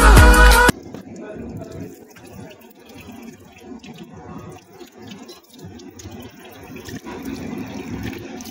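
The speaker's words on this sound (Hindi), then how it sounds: "अभी उठ के जल्दी से मुँह धो रहा" Water running from a tap while someone washes their face, a steady splashing flow heard close by after a short loud burst at the start.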